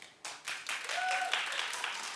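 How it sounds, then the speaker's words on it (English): A studio audience breaks into brief, fairly quiet applause with a few voices cheering over the clapping. "Clap if you watched."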